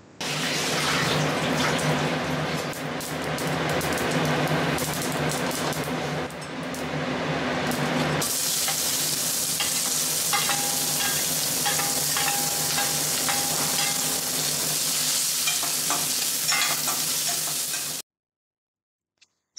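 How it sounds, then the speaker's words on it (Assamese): Sliced onions fry in hot oil with black mustard seeds and kalonji, a continuous close sizzle with occasional stirring scrapes, running unbroken until it cuts to near silence at the very end. "পিঁয়াজখিনি তেলতে ভাজি লৈছোঁ অলপমান তাতে মই কলা সৰিয়হ আৰু অলপমান কালজিৰা দি লৈছিলোঁ তেলতে"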